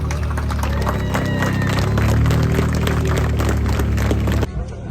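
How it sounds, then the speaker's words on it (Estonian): Outdoor crowd applause at the Lõuna-Eesti Ralli 2023 awards ceremony, a dense steady patter of clapping under background music that cuts off abruptly near the end. "Aplaus!"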